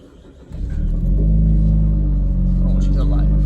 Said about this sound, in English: So I'll take you boys on a ride, let you listen to the car.